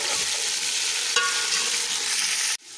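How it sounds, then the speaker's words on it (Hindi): Meat fries with golden onions in a pot, a steady loud sizzle with a brief stirring scrape midway, cutting off abruptly near the end. "अब इसके अंदर जो है हम इसको थोड़ी देर फ्राई करेंगे"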